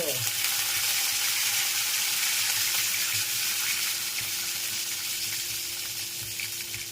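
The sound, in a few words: hot oil crackling in a pan for bitter gourd curry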